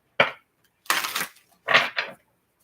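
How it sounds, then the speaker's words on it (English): Tarot cards being shuffled by hand, close and dry: three short papery riffling bursts separated by brief silences, with no voices. "Last shuffle."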